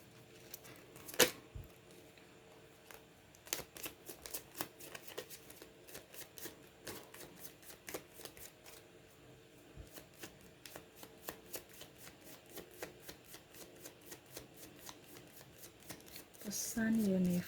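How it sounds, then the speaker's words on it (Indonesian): Tarot cards shuffled by hand, a quiet run of crisp riffling and tapping bursts at an irregular rhythm, close and faint, with a few brief voiced sounds. "Saya kocok kartu dulu."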